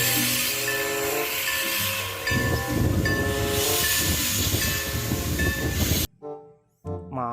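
A toy steam train runs with a continuous loud mechanical rumble and clatter, broken by repeated short whistle-like toots, before cutting out into brief quieter sounds at the end.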